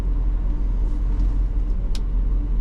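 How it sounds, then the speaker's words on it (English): A 1971 Mercedes-Benz 280SE 3.5 engine idles with a steady low rumble and even throb, close by, with no voices. "I've had this car idling for a lot of the photo set"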